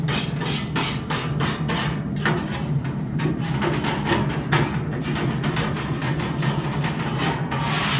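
A metal scraper dragged repeatedly across a pellet grill grate to clear baked-on residue, a loud, close, rhythmic rasping in steady back-and-forth strokes with no talking.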